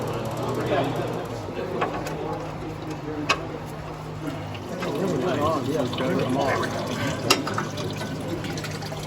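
Liquid flows in the engine of a 1969 Triumph TR6, a continuous trickling and gurgling pour with a couple of sharp ticks, while people talk nearby.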